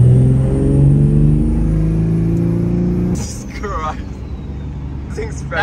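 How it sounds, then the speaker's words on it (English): A lifted Chevy dually truck with a Duramax diesel engine accelerates hard from a 40 mph roll on 30-inch wheels, a loud low rumbling roar that cuts off abruptly partway through, followed by wind and voices. "we're gonna practice some 40 rolls"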